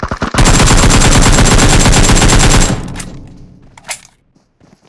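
Loud, rapid automatic gunfire from the mobile battle-royale game PUBG Mobile rattles in one sustained burst of about two seconds, then stops, leaving a few scattered thumps.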